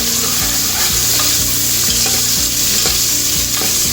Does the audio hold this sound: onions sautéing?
yes